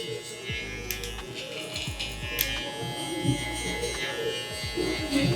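An electric hair trimmer buzzes in steady bursts during a barbershop haircut, close and fairly loud, with a voice talking over it.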